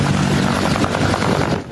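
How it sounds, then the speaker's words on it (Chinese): Military combat helicopters taking off and landing at a temple-square refuelling and rearming point by a harbour in Tainan, a loud, steady broadband rotor and engine roar filling the short stretch with no pause. "直升机起降，声音真响，互咧霹雳扇大风。"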